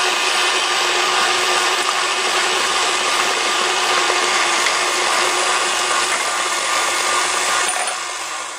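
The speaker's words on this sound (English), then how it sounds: "turn your mixer on high and add the rest of the liquid" A countertop electric mixer runs steadily on high, whipping cheesecake batter in a continuous loud whir that holds level throughout, then eases off slightly near the end, with no talking.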